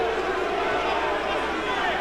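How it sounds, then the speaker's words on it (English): A heavyweight boxing arena crowd growing restless during the Tyson v Ferguson bout: a dense, steady roar of murmuring voices and chatter fills the hall, near-constant and moderately loud throughout. "Crowd beginning to get restless."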